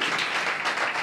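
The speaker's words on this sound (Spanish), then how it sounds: "¡Un aplauso grande ahí!" Applause from a small bar audience at a comedy show, a dense, steady wash of clapping filling the whole second at close range without a break.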